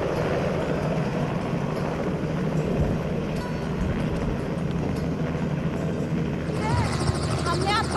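A helicopter flying over the Haridwar Kumbh Mela gives a loud, steady rotor and engine drone heard from inside the cabin, continuous for the whole stretch, with a voice talking over the noise.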